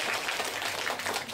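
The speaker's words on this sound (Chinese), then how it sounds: "好，请各位再一次给自己和家人和朋友掌声鼓下吧。" Dense, steady applause from an audience at a science magic stunt show fills the whole short stretch, close and evenly loud with no pauses.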